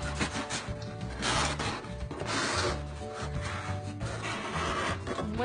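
A wooden bookshelf piece is pushed and fitted into a wooden box, giving close, repeated rubbing and scraping of wood on wood in uneven strokes.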